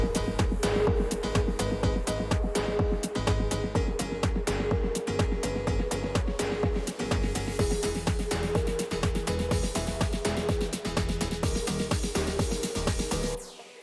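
A driving tech house track with a steady four-on-the-floor kick, busy hi-hats and bright crash cymbals washing over the beat, loud and continuous.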